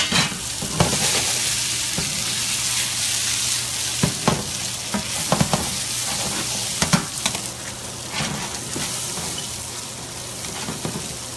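Green beans sizzle and crackle steadily in a hot pan in a home kitchen, with scattered sharper pops and stirring clatters over the continuous frying hiss.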